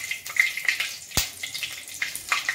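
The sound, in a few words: whole cumin seeds and dried chilli tempering in hot oil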